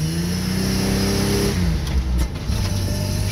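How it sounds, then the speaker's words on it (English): A ute pulls away, its mid-pitched engine revving loudly and steadily throughout, with a slight dip partway through the run. "Ash going for his first run in his ute."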